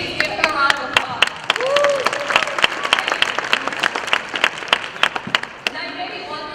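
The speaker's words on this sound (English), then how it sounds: "So please give him a round of applause." Audience applause at a hackathon opening ceremony, scattered sharp claps that thin out into individual hand claps, with a voice speaking briefly over them.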